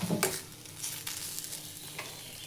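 Vada pav potato filling is stirred in a pan, quiet scraping strokes over a soft sizzle, with a few sharper clicks of the spoon against the metal.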